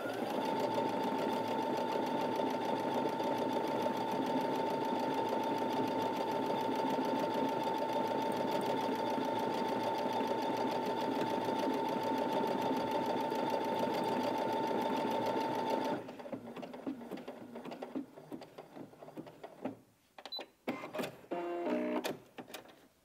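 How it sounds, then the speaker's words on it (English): A Brother Innov-is A150 sewing machine stitches out lettering with a fast, steady, close mechanical whirr for about sixteen seconds, then stops, followed by a few brief clicks and handling noises. "So let's just type the word B in there, and I will show you what that stitches out like."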